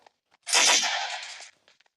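A single sustained burst of gunfire in Minecraft on a Gun PvP map, a loud, harsh blast lasting about a second that cuts off sharply, with near silence on either side.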